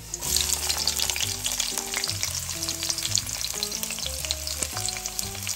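Garlic and onions sautéing in a hot pan, a loud, continuous sizzle and crackle with frequent stirring scrapes, close up and without talk.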